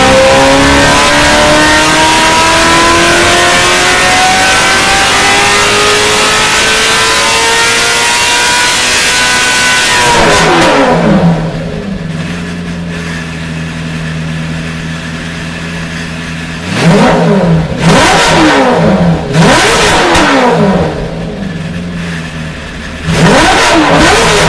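A BMW M3 GTR race car with a P60 B40 V8 engine revs hard, rising through gears for ten seconds, then idles low and blips the throttle in sharp bursts, loud and close, with no talk.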